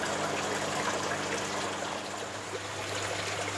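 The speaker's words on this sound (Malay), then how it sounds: "Dia hanya bunyi air, bukannya bunyi pump." Water falls steadily from a raised outlet into an aquaponics fish-farming tank, a continuous close splashing trickle with no pump hum, alone and unbroken throughout.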